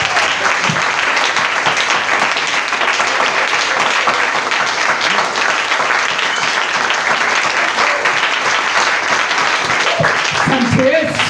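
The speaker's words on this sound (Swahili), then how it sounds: "Clap your hands for the Lord because of His word." A church congregation claps for the Lord in sustained, loud applause that carries steadily for several seconds, a dense wash of many hands with voices mixed in underneath.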